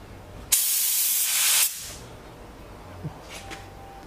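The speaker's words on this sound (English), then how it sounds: "Let me see the spray pattern again." A loud burst of paint from a Fuji MPX-30 spray gun hisses for about a second, then cuts off, followed by a few faint clicks and short hisses.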